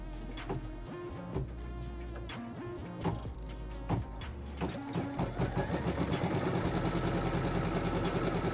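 An embroidery machine stitches batting down on a quilt block, a rapid mechanical needle clatter that starts in uneven bursts and settles into a fast steady rhythm, close and moderately loud, no voices.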